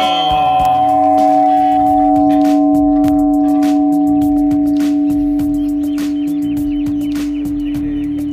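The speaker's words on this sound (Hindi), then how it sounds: "कितना बड़ा घंटा है देखिए।" A large bell at a Shiva temple with a giant Shiva statue in Rajasthan, India, rings out loud and close, its deep sustained tone humming and echoing on for several seconds as it slowly fades, with faint clinks above it and no talking.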